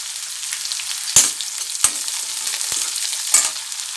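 Small onions and mustard seeds frying in oil with urad dal, a bright hissing sizzle with a few sharp pops and spatula knocks against the pan.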